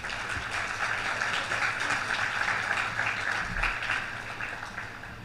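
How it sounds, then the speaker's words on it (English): Graduates at a virtual high school commencement give themselves a round of applause, a steady, moderately loud clapping over a low background hum. "let's give ourselves a big round of applause"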